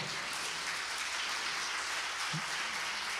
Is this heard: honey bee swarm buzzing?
no